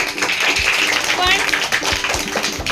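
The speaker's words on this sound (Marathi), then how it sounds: "टाळ्या वाजवा." A third-grade class of schoolchildren claps during a maths lesson, with scattered, uneven hand claps and taps close by under children's voices and chatter.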